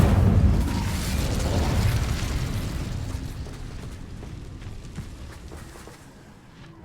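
An Incendio fire spell cast in Hogwarts Legacy, a loud whooshing burst of flame that roars up at once and then slowly fades into a dwindling rushing hiss.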